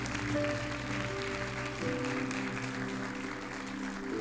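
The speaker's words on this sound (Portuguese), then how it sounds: "Então aplauda o Senhor se você crê nisso." A church congregation applauds in praise, a steady wash of clapping under sustained keyboard or organ chords that shift partway through.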